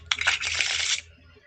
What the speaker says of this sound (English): I'm going to shuffle these things up